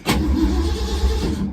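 A car engine cranks and catches on a cold start, a short burst followed by a steady low idle rumble close by, lasting just over a second before fading.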